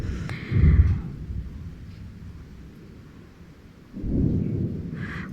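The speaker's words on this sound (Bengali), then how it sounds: "কত জোরে জোরে মেঘ ডাকতেছে" Two deep rolls of thunder rumble through a village storm, one early and one near the end, each swelling loud and low before fading into a quieter background.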